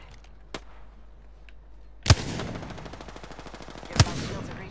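Gunfire in the battle royale shooter Apex Legends: a faint early shot, then two sharp, loud close-range bursts with rapid follow-up fire and ringing tails, set over quiet ambient game sound.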